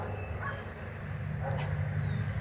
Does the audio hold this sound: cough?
no